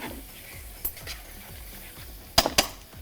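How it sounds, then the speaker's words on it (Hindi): Daal is stirred with pepper, chicken powder and salt, giving a rhythmic soft scraping in a pot over a low sizzle, then a couple of sharp clinks of the spoon against the metal near the end. "इसमें ऐड करके इसको अच्छे से मिक्स कर लें"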